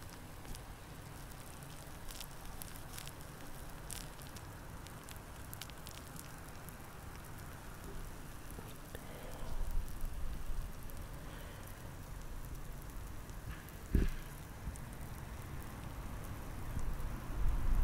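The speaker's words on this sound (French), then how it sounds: "Commence à pleuvoir de plus en plus les amis." Rain patters steadily on a surface outdoors, soft at first and then swelling a little toward the end, with a sharp knock midway and no speech.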